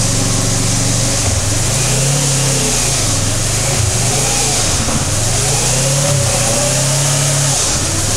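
A motorcycle engine revs up and down repeatedly, its pitch climbing and dropping as it shifts from first up to sixth gear, loud and close throughout.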